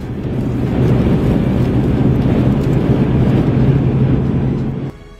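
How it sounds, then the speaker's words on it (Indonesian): Strong storm winds buffet the microphone in a dense, loud rush of low roaring noise that holds steady for several seconds before cutting off abruptly. "angin badai yang kuat"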